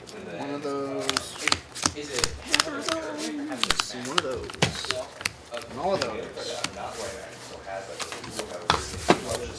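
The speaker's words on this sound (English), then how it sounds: "Give it the extra shuffle." A Magic: The Gathering deck being shuffled during a Pioneer tournament match, with repeated crisp riffle bursts and card flicks close to the microphone while players talk over it.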